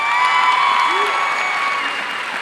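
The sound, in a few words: applause for dance team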